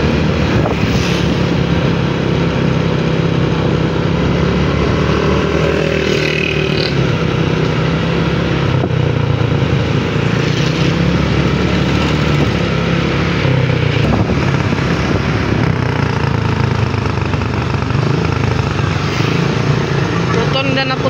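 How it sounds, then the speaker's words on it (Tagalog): An airplane passing overhead above a roundabout in a downtown street, heard as a loud, sustained engine drone mixed into constant traffic noise. Voices are heard talking. "At yan, may dumaan na aeroplano."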